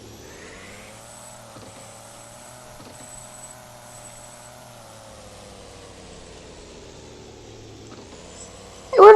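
An off-road truck engine in the Offroad Outlaws video game, towing a trailer in four-wheel drive, holds a steady mid-pitched drone that rises and falls gently, ending with a sudden loud burst.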